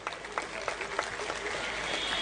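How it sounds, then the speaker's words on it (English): An audience in a hall applauds at an inaugural function for a moot court event, dense steady clapping from many hands, moderately near and continuous throughout. "So a big applause for all of them too."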